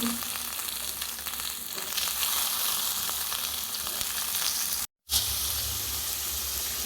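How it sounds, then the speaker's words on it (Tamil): Plantain stem sautéing in a pan with a steady, dense close-up sizzle and occasional stirring, broken by a brief cut of silence before the frying resumes. "கூடவே வாழைத்தண்டு சேர்த்து வதக்குங்க."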